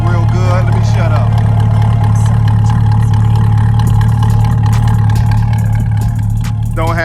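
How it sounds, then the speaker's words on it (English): A C8 Chevrolet Corvette sits idling with its exhaust producing a steady, loud, deep drone throughout, while a voice speaks briefly over it at the start and end. "Exhaust sound real good."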